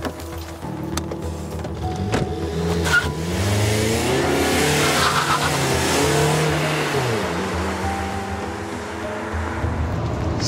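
A car pulls away in a crime drama scene, its engine revving up and holding a steady, loud drone over several seconds against background score.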